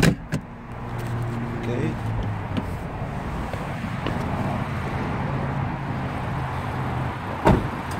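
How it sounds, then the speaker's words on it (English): A Mazda MX-5 Miata convertible roof opens: a steady mechanical whir and rustle of the top folding back, close by, framed by clicks at start and end, with a brief spoken word early on. "And it's very easy to open the roof."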